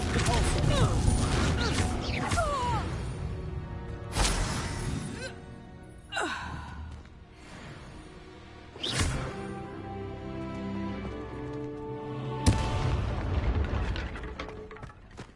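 Confringo fire spell explosions in the video game Hogwarts Legacy, several loud booming blasts at irregular intervals over a dense orchestral and combat soundscape, with short character grunts and shouts between them.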